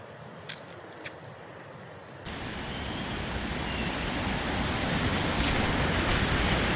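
Water at the Chettiyar pool makes a broad, continuous rushing wash that swells noticeably after a quieter opening and keeps building, with no voices.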